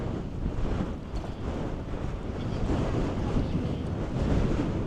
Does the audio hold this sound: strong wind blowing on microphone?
yes